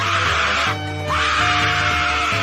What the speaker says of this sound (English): that queen screams so much